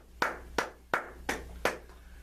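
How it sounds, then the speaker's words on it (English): Hands clap five times, slow and evenly spaced, close and crisp, at a tabletop role-playing game session, with no talk over them. "The wise guys, they start clapping."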